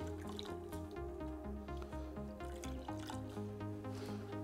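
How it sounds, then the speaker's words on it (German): Sponge being rinsed in a bowl of lukewarm water, with soft trickling and dripping splashes heard close up and faint. "Schwamm ausspülen."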